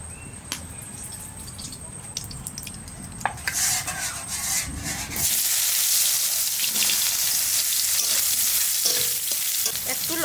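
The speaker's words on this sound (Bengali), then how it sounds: "সয়াবিনের বড়ি ভেজে নেব আর এই যে ডালের বড়ি, এই দুটো একটু ভেজে নেব।" Soybean chunks and lentil dumplings (bori) frying in hot oil, with faint scraping and stirring at first, then a loud, continuous sizzle that rises sharply and stays steady, close by.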